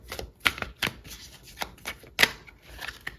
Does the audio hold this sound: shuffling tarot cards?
yes